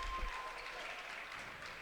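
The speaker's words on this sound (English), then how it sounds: "And their crowd gives their players a warm round of applause." Crowd applause for the players at a Knights versus Groton Tigers varsity boys basketball game, a steady, diffuse wash of clapping from the stands that holds evenly and fairly distant throughout.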